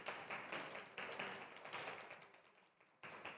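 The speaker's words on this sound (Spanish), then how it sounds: "Un aplauso para ella." A panel audience claps briefly, a faint patter of hands from a modest crowd that thins out before a short final burst.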